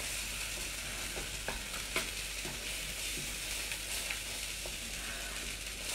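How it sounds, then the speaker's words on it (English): Pork fillet frying in a pan with double cream for a peppercorn and brandy sauce, stirred with steady sizzling throughout and a few soft scraping knocks from the utensil, no talk. "Give all that a good old stir."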